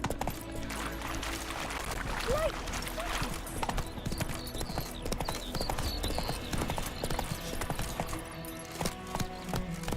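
Roach the horse gallops in The Witcher 3, a rapid rhythmic clip-clop of hooves running continuously and loud, with a brief whinny near the middle over steady game ambience.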